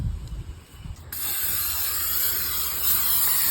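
Cooking spray coating a cast iron skillet outdoors over an open fire: a few soft clicks and rattles, then a sudden steady hiss of spray that carries on close and unbroken for over two seconds.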